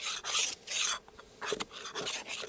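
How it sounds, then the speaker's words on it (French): Scraping across the top of a wooden beehive box during a spring hive inspection, heard as short rasping strokes in bursts with brief pauses between them, close up and with no talking. "Je vais en profiter pour gratter le dessus."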